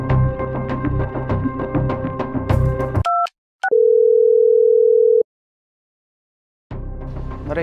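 A phone call goes unanswered: after a burst of background sound, two short electronic tones sound, then a long steady ringback tone holds for about a second and a half before silence and faint noise.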